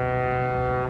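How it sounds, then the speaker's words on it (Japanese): A ship's steam whistle in the video game Yakuza 6 sounds one loud, sustained, tonal blast of about a second, alone in the clip. "私この汽笛の音好きなんだ。"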